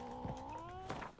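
A cat meows in The Witcher 3 video game, one drawn-out, wavering meow followed by a shorter call, quiet and close with no talk over it.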